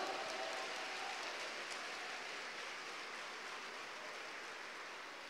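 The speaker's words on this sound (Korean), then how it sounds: "Aleluia, palmas ao Senhor." A congregation claps hands together at a Portuguese–Korean revival conference church service, a steady, dense wash of applause sustained throughout without pause.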